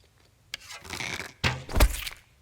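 Sniper critical hit on a knife-wielding goblin in The Bard's Tale, heard as a few heavy thunking impacts with a scraping, crunching burst, loud and close with no talk.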